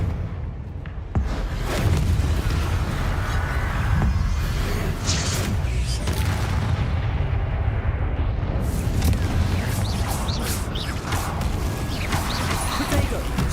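A Confringo spell explodes in Hogwarts Legacy with a dense rumbling boom and whooshing blasts amid continuous combat noise, loud and sustained, with voices calling out during the fight.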